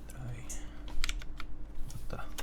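Clicky typing on a mechanical keyboard fitted with blank ABS keycaps, fairly quiet and irregular, with a soft background hum and a faint voice behind the keystrokes.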